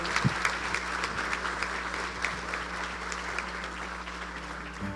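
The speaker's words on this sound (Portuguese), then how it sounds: "Uma salva de palmas" Congregation applauding during a church service marking a pastor's forty years of ministry, sustained even clapping over a low steady hum, with a few sharper claps standing out.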